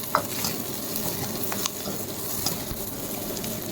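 Cut cauliflower, beans and potatoes fry in a pan, giving a loud, continuous sizzle with stirring scrapes and a few sharp clinks running through the whole stretch.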